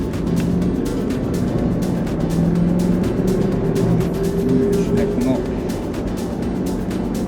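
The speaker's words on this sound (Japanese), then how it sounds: "しっとりとした加速のあとね、昔の AT のこのゴンっていう、そう上がってく、スムーズじゃないところ" Mercedes-Benz 560SEL W126 with an old automatic gearbox pulling away under throttle, a steady low engine drone rising in pitch with faint step-like shifts, heard from inside the cabin as people talk over it.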